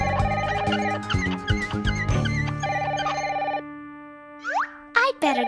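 A telephone bell rings loudly in repeated bursts, up close, with children's cartoon voices and a springy boing sound layered over it.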